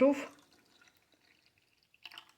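Homemade yogurt poured into small 200 ml jars, a brief soft liquid pour and drip at the start followed by a faint splash near the end, quiet and close.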